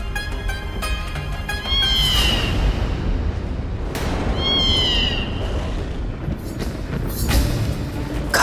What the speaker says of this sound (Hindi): काली बिल्ली